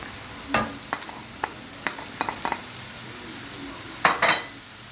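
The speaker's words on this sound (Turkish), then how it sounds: "Bunun üzerine şöyle ince ince doğranmış yeşil sivri biberlerimizi atıyoruz." Finely chopped green peppers sizzle steadily in a pan while a utensil scrapes and clicks against it a few times, with a louder stirring scrape near the end.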